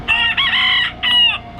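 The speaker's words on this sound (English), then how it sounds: "We've also got chickens here in the body shop next door." Chickens wandering beside a car body shop crow and cluck close by, two loud strained calls separated by a brief pause.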